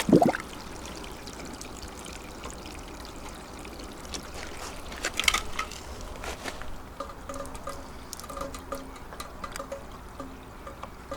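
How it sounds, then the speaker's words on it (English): Water pours steadily into a jar at close range, a continuous trickling patter with a brief louder splash midway, used while filling a Sluice Goose GOLDROP gold recovery jar. "now we need to take this jar and fill it with water and screw it back on"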